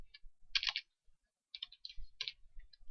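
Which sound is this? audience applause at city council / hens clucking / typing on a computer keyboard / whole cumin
typing on a computer keyboard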